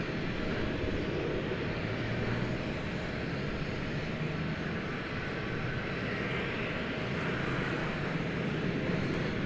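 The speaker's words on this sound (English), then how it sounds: "we got a lot of planes getting ready to take off over there" Steady broadband roar of jet airliners idling and taxiing for takeoff at DFW Airport, heard from a distance as a continuous rumble with no distinct peaks and no talking.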